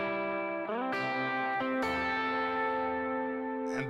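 An electric guitar with its volume knob turned down to about a third sounds cleaner and less overdriven. A few strummed chords ring out and are left to sustain, with soft echo over a short passage.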